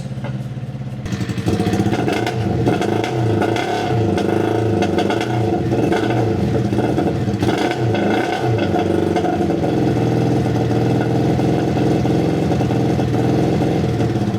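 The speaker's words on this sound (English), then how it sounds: "Can you give it a little rev there for the boys?" A Honda CBR929 motorcycle engine swapped into a side-by-side starts up, then revs hard and repeatedly in rising and falling bursts, loud and close, with no voices.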